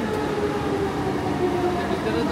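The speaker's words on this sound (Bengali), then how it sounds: "ট্রেন চলে এসেছে।" LRT train arriving at a busy Kuala Lumpur station, a continuous rumbling rail roar with steady tonal hum, moderately loud and unbroken across the short stretch.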